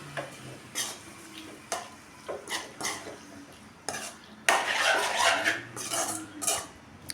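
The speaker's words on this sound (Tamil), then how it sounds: "இதை நல்லா கிளறி விடணும்." A spoon stirs instant lemon pickle in a pan with repeated metallic scrapes and clinks over a low sizzle, and a louder burst of frying hiss comes partway through.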